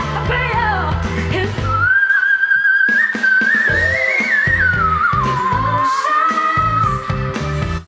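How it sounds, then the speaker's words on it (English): A singer sings live at the 2017 Asia Song Festival, holding a piercing whistle-register note that slides and wavers for several seconds, loud and sustained above the band's accompaniment. "That was whistle tone"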